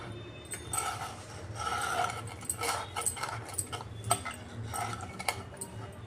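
Rolling the backs of colocasia (alu) leaves flat with a rolling pin in a home kitchen, giving irregular clattering knocks and scrapes against a board over a steady low background hum, no talk.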